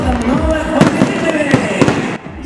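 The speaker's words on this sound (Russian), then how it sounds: "Яркой точкой выпускного бала стал красочный фейерверк." Fireworks burst over the resort town of Anapa during a school graduation ball, with a rapid series of sharp pops and booms crackling loudly overhead amid festive background noise and voices.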